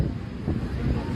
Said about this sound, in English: It's really windy right here now